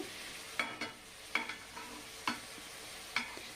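A spoon stirs Rajula chicken pulao rice in a pot, with a handful of sharp scraping knocks at irregular intervals against a faint sizzling background.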